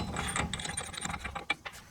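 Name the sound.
ratchet tightening axle nut on Nissan rear lower arm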